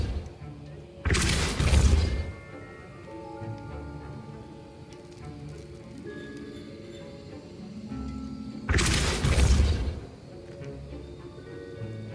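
A Depulso spell cast in the Hogwarts video game bursts out twice as loud, broad whooshing blasts several seconds apart, with quieter game ambience and music between them.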